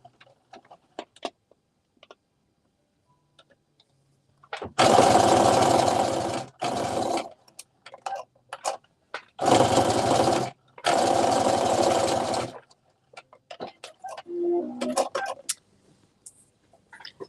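A sewing machine stitches the ends of a sweatshirt top in several bursts of loud, rapid mechanical whirring, separated by short pauses and quiet handling sounds.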